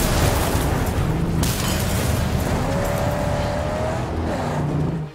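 A car roaring at high speed in the Mad Max video game, its engine drone loud and continuous with booming rumbles and rising tones over a dense game soundscape, no talk.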